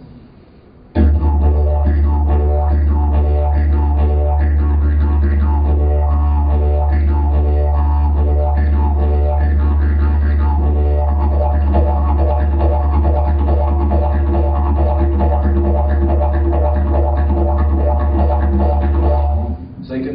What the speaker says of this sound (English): Sing that through the didgeridoo, you get this.